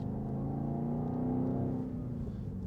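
A 2023 BMW XM engine revs hard while accelerating in Sport Plus M mode, giving a loud, steady, deep rumble from inside the cabin that swells slightly midway and holds with no talk over it.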